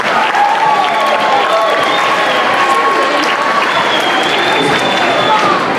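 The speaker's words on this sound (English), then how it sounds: "give a big round of applause to all the faculty involved in planning and executing this global program" Sustained applause from a school assembly audience fills the room loudly and steadily for several seconds, with faint voices and a few whistles mixed in under the dense clapping.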